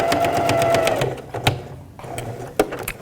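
A sewing machine stitches steadily along a fabric edge, its rapid mechanical whir running close and continuous, easing briefly near the middle before picking up again, with a few clicks mixed in.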